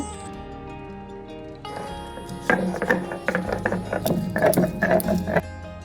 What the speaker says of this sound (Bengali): এবার আমি মশলাগুলোকে শিলে বেটে নেব